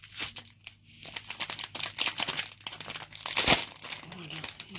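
A gift package being unwrapped, with crinkling wrapping and paper handled up close in irregular rustling bursts and one sharp tearing crackle, alongside someone speaking.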